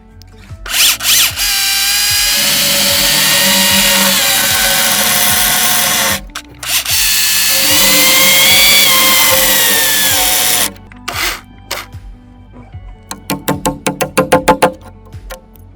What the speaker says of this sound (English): I'm going to use the electric chainsaw,